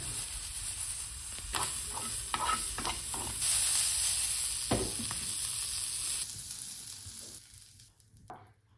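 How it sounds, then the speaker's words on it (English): A sushi roll pan-fries in sesame oil, giving off a bright, continuous sizzle. Scraping stir sounds come and go on top of it. The sizzle thins out near the end, and no voice is heard. "Now I'm going to do normal pan fry."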